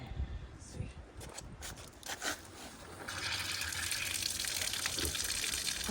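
Water gushes steadily from an outdoor foot wash being tested during spring maintenance after winter, a broadband hiss that swells and holds loud after a few seconds of quieter splashing and faint voices.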